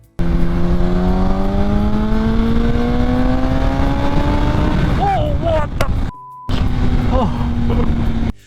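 A 2004–2007 Honda CBR1000RR sport motorcycle engine revs loud and close, pitch climbing smoothly before a few quick blips and a brief cut, then settling into a steady drone.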